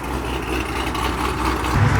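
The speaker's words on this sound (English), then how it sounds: "We got the skirt Camaro rolling out." A Camaro with a side skirt idles as it rolls out of a car meet, a steady low engine rumble running close and continuous, slightly louder toward the end.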